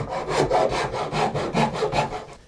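A wooden guitar neck being hand-shaped at the nut, heard as about ten steady, rhythmic rasping strokes up close, each one a scratchy rub against the wood.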